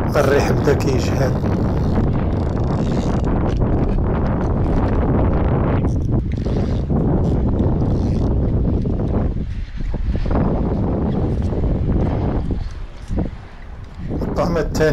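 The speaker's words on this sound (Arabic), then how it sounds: "الريح بدا كيجهد" Strong wind gusting across open water during a fishing session, a loud continuous roar and buffeting against the microphone that stays dense throughout and dips briefly near the end.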